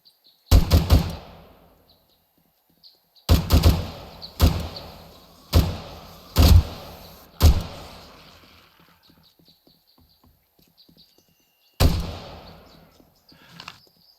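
A powerful gun firing in 7 Days To Die: loud single shots come in spaced groups, each ending in a sharp decaying echo, with quiet gaps between them.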